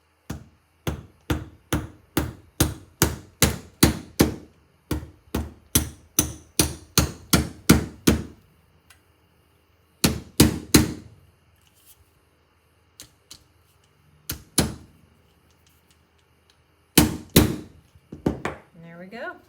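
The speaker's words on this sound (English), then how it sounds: "I'm just gonna take my little hammer and just tap it" A small hammer taps gently at a barn-wood owl craft piece: a quick run of about sixteen evenly spaced light knocks, then scattered pairs and single taps after pauses, close and clear.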